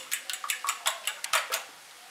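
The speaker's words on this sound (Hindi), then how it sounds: "मैंने ये 4 अंडे लिए हैं," Four eggs beaten in a bowl, giving about ten quick, bright clinks of a utensil against the side in an irregular rhythm, close and alone.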